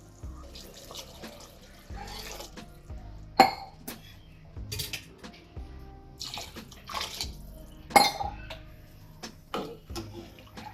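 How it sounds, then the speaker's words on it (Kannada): Water poured into a pot for biryani rice, with splashing and pouring mixed with clinking of metal pots and utensils in a home kitchen, several louder clanks standing out. "ನೀರು ಸೇರಿಸ್ಕೊಂಡಿದ್ದೀನಿ."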